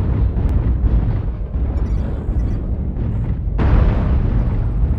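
Airstrike explosions in the mech combat game MechWarrior Online, heard as a continuous heavy rumbling roar with a sudden louder burst partway through.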